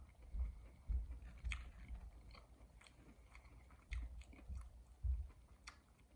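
Someone bites and chews fried onion in soft, rhythmic crunches and squishes, faint and close, with no talking.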